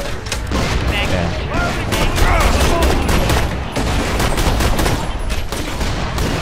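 Dense, sustained gunfire fills a firefight in the video game Borderlands: The Pre-Sequel, rapid loud shots overlapping continuously with a few heavier booms mixed in.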